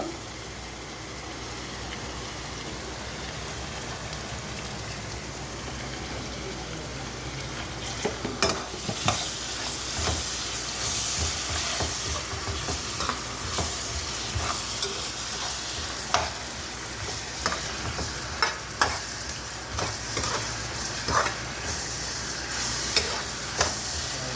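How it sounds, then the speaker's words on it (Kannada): Capsicum for pav bhaji fries in a pan, a continuous sizzle with clattering scrapes of a spoon stirring. The stirring grows busier partway through, and no one talks. "ನೋಡಿ ಕ್ಯಾಪ್ಸಿಕಮ್ಮು ಹಾಕ್ತಾ ಇದ್ದೇನೆ ಇವಾಗ."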